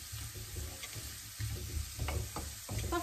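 Chicken frying in a pan alongside peppers, a close, moderately quiet sizzle with repeated scraping and stirring strokes of a utensil across the pan, no voices present.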